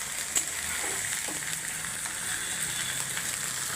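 Bottle gourd greens fry in a pan with a steady, even hiss of sizzling oil and a few faint clicks of stirring, close and continuous with no talking.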